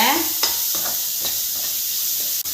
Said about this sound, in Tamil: ஒரு பெரிய வெங்காயம் குட்டி குட்டியாக கட் பண்ணியிருக்கேன் அதையும் போட்டுக்கலாம் நல்லா வதக்கி விடுங்க